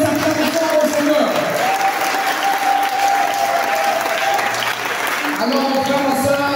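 A church congregation at a prayer service breaks into steady, loud applause and cheers in praise of the Lord, with voices calling out over the clapping throughout.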